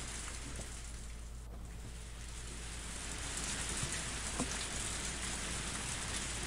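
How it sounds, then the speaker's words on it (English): Heavy pouring rain with a continuous broadband hiss and scattered droplet patter, steady and moderately quiet, with no voices. "Only the sound of the pouring rain filled up the silence."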